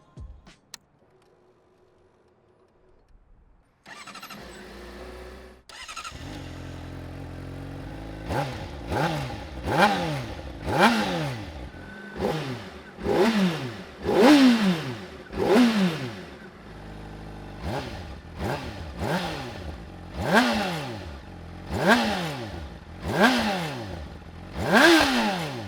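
A stock-exhaust 2022 Honda CBR600RR motorcycle starts after a quiet moment, settles into idle, then revs in about a dozen sharp, rising-and-falling throttle blips, loud and close, with no talking.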